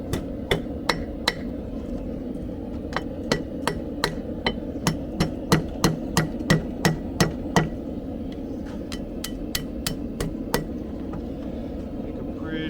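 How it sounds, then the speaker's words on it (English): Blacksmith hammering a horseshoe into a 90-degree bend over the corner of an anvil: a steady, evenly paced series of loud, ringing metal strikes, close up, with a short pause partway through before the blows resume. "Going for a good 90-degree bend. Use the corner of the anvil here."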